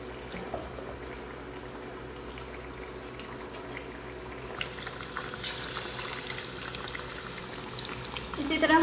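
Fish pieces coated in gram flour fry in hot oil, a steady hiss of sizzling that grows louder and brighter toward the end.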